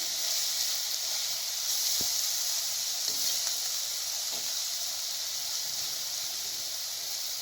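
Chopped tomatoes go into softened onions in a pan for Tamil chicken curry, giving a steady, close hissing sizzle with a few faint clinks and no talk.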